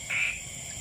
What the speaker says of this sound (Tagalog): Ang dami palaka.